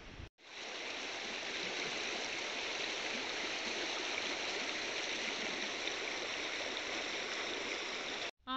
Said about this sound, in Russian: Ого, сколько воды!